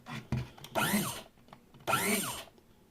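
A Gorenje SMK150WI electric coffee grinder whirs through two short grinding bursts with brief pauses between them, the motor sound rising and falling sharply and heard close and fairly loud.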